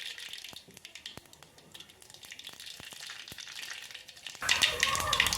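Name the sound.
mustard seeds sizzling in hot oil for tempering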